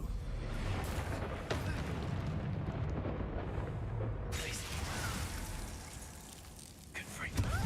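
A blast from the Expulso spell in Hogwarts Legacy, a loud, sustained rumbling eruption with a sharp burst of crackling debris about halfway through, layered over game ambience.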